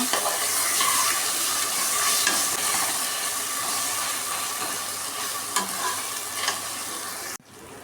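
Ginger garlic paste frying in a pan for plain biryani, with a continuous loud sizzle and scraping stir strokes throughout, ending with an abrupt drop near the close.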